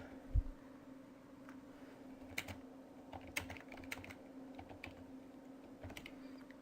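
Sparse keystrokes on a computer keyboard while coding a PHP variables tutorial, a few scattered clicks and short bursts over a steady low hum, close and fairly quiet.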